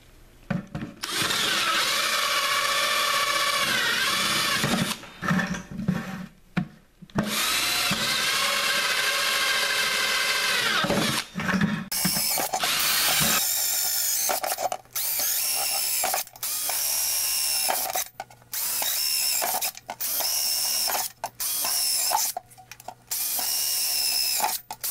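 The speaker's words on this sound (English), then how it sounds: "I'm removing the burrs off of these holes" A deburring tool scraping burrs from drilled holes in plastic pipe and bucket parts for an aquaponics fish-tank filter, heard as loud, steady grinding strokes up close that break into short, repeated scraping bursts separated by pauses.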